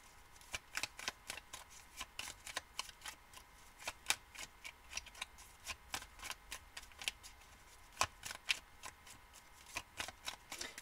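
A deck of oracle cards is shuffled by hand in a quiet room. The riffling comes as a long run of crisp, close, rapid flutters and taps, and no voice is heard.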